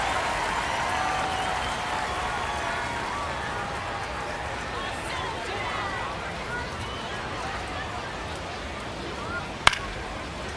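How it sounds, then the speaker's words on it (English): A stadium crowd roars steadily at a baseball game in the video game MLB The Show 26, a dense continuous wash of cheering with a sharp crack near the end and commentary voices beneath. "Crowd locked in right now."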